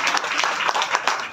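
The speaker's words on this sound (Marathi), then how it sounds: "या एकदा जोरदार टाळ्या होऊन जाऊ दे" An audience at a business training session claps, a dense burst of many hands applauding together, loud and close for the whole stretch.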